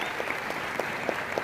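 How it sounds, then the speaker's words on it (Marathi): Audience applause at a public gathering welcoming an honoured guest, a steady wash of many hands clapping, fairly loud and continuous throughout. "एकदा जोरदार टाळ्या झाल्या पाहिजे"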